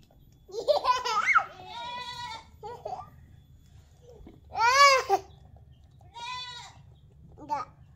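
A goat bleats several times, close and loud, with wavering cries spaced apart and quiet pauses between them.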